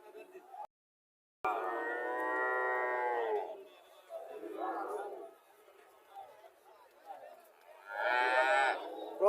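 A young Sahiwal calf moos loudly and close up in several drawn-out, harmonic calls, with a few shorter lows in between against a quiet farm background.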